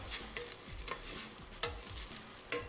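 Cardamom pods sizzle in hot oil in a pan while a spoon stirs them, with a few sharp scraping strokes over a steady frying hiss, close and fairly quiet.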